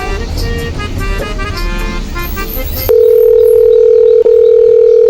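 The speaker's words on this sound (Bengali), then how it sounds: "থাকেন তো একটা ফোন আসছে।" A phone rings with a loud, steady electronic tone that starts abruptly partway through, cutting in over busy background noise.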